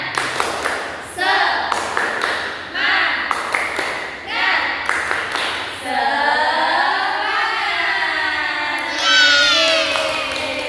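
A group claps in short rhythmic bursts between chanted voices, children and an adult calling out together, then sustained shouting and cheering near the end.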